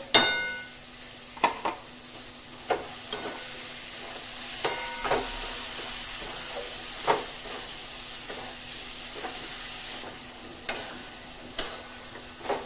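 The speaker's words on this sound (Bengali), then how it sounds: "এবার এখানে যে চিংড়িটা বেটে রেখেছিলাম ওই চিংড়িটা দিয়ে দেবো, দিয়ে মশলার সাথে ভালো করে কষিয়ে নেব।" Ground shrimp fries with spice paste in a pan for Bengali potol chingri, giving a steady close sizzle broken by regular clicks and scrapes from stirring, with no one speaking.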